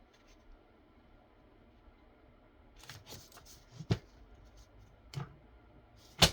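Scissors trim a paper craft piece with several sharp, sparse snips and rustles close by, louder toward the end, with quiet stretches in between and no talking.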